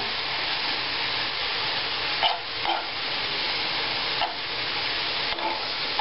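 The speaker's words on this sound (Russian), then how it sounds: "До готовности обжариваем." Meat with tomato paste fries in a pan, giving a steady, loud sizzle with occasional scraping stirs and clacks of a utensil, no speech.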